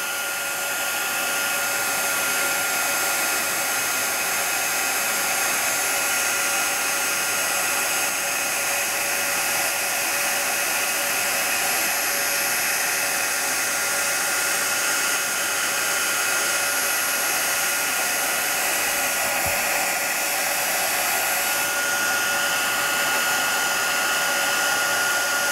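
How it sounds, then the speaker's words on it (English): A handheld heat tool for setting embossing powder on a stamped paper craft blows a loud, steady fan-and-heater whoosh, continuous and unchanging for the whole stretch, close to the mic. "you may want to turn your volume down a moment while I just warm this up. And then we're going to set this with our heat tool"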